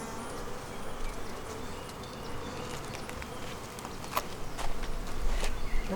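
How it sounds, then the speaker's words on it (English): Agitated honey bees swarm a hive frame during spring hive work, a dense, continuous buzzing close by, with faint scattered knocks and light movement noises rising toward the end. "Okay, these bees are agitated."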